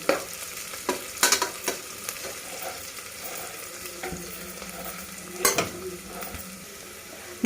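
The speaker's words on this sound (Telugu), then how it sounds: "ఈ ఆనియన్స్ మనం ఎంత బాగా రోస్ట్గా వేయిస్తామో అంత టేస్టీగా ఉంటుంది మన మష్రూమ్ బిర్యానీ" Onions roast in a pan for mushroom biryani, sizzling steadily while a spatula scrapes and clatters against the metal in several sharp bursts, close and fairly loud with no talking.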